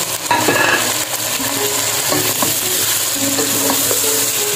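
Chicken frying in a pan with crushed garlic and ginger, a steady close sizzle with occasional stirring scrapes and light utensil clinks, no voices.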